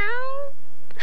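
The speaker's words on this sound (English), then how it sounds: "That sounds like a cat." A single cat meow, loud and close, rising then falling in pitch over about half a second, followed by a brief faint rustle.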